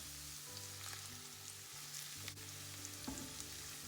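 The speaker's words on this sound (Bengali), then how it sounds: "দিব আদা দিয়ে দিলাম একটু ব্রাউন করে ভেজে নিব রসুনটাকে" Ginger and garlic frying in oil in a pan for naga chili pickle, a continuous close sizzle with a low steady hum and occasional stirring clicks, no speech.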